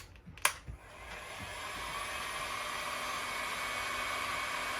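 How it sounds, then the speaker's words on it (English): A heat gun switched on to shrink heat shrink tubing during a battery cable replacement, starting with a short click and then blowing a steady, loud, broadband rushing hiss that holds on without voices. "Take your heat gun, turn it on."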